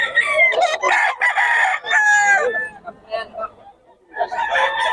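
Roosters crow loudly and chickens cluck at close range among fowl kept for sale. Long crows sound in bursts separated by brief quieter gaps.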